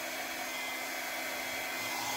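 A mini blow dryer blows steadily on acrylic pour paint, a constant, even, close whooshing hiss with no pauses and no voices.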